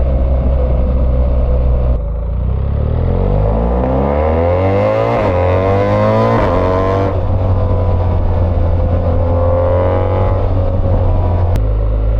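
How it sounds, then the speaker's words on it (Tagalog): A Vespa scooter engine idles low and revs, its pitch rising and falling steadily, then a single sharp backfire pop cracks out near the end, loud and close. "Backfire."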